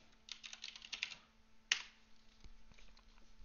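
Keys clatter on a computer keyboard as a command is typed into PowerShell, a quick run of close, crisp clicks followed by a single sharper keystroke, then quiet room hum.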